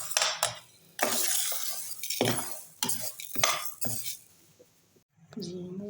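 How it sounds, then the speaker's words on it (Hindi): Flaxseed roasting in a pan is stirred in loud, close, rasping strokes, about half a dozen bursts of scraping and rattling separated by short pauses, ending with a brief lower-pitched sound. "और अभी मैं आधी और भून रही हूँ।"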